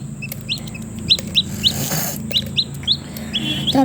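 A hen clucks repeatedly as chicks hatch from eggs, with short close clucks and high peeping chirps in an uneven rhythm over a steady background hum.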